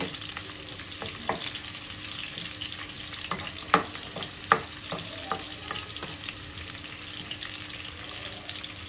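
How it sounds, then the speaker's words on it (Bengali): Garlic fries in hot oil for a chepa shutki bharta, a close, continuous crackling sizzle marked by a few sharp taps of a spoon against the pan. "আমি এখন রসুনটা আগে দিয়ে দিব রসুনটা একটু শক্ত সেই জন্য আমি আগে দিয়ে দিচ্ছি রসুনটা একটু বেজে নেই"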